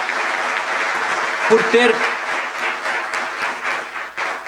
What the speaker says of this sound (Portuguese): eu já queria pedir imediatamente uma salva de palmas a todos